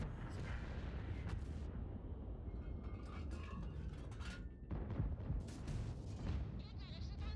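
Artillery shells fired in the video game World of Tanks, several dull heavy booms and rumbling impacts spread irregularly over mechanical clatter, with someone speaking over the game sound.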